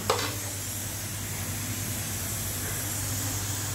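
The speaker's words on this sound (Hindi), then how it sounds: "ये मेरे बन रहे हैं कोफ्तो" Vegetable koftas for a no-garlic, no-onion meal frying in hot oil, a steady close sizzle and hiss running throughout with a faint brief clink near the start.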